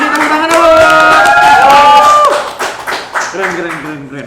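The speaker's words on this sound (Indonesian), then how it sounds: "Kasih tepuk tangan dulu." A studio audience claps and cheers loudly at an episode of a youth talk show, with clear tonal voices and talk mixed in before the clapping thins out toward the end.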